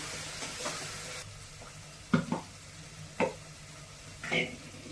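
Dry ground masala fries in a pan while cooking biryani, with a faint sizzle under a few sharp scraping stirs of a spoon against the pan.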